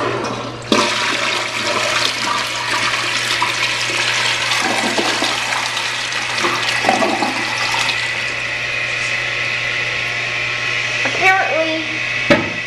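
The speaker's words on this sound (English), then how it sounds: "I'm going to try to make it flush better by pulling this up." A 2008 Vortens Vienna toilet whose flapper does not open far enough flushes with a loud, close rush of swirling water lasting about twelve seconds, under a steady low hum, ending in gurgles.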